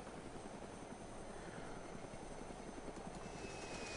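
A helicopter in the ArmA 2 DayZ Mod video game comes in to land, its rotor and engine making a steady, loud, continuous whir throughout, with no talk.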